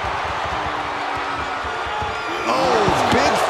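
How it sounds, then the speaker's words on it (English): A steel trash can lands several dull, heavy thuds in a WWE NXT wrestling match amid arena crowd noise, and then a voice talks over the scene. "big thud coming from the steel trash can"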